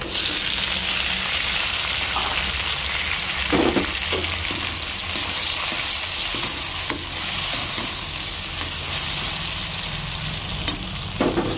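Ripe red tomatoes fry in a pan for tortang kamatis, giving a loud, steady close sizzle with occasional stirring scrapes and knocks of a spatula, and no voices.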